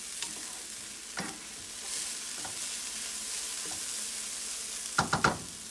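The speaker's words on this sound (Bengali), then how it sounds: "এবার চাপাটা খুলে নিচ্ছি, খুব ভালো করে একবার মিশিয়ে নেব।" A veg Mughlai paratha filling being stirred in a pan, with a low background sizzle broken by a few scattered utensil scrapes and a quick cluster of taps near the end, close and quiet.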